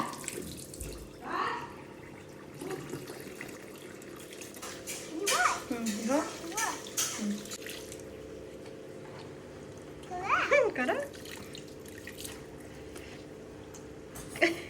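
Tap water runs steadily into a sink while a child brushes teeth, with an adult voice speaking over it and occasional clinks from the basin.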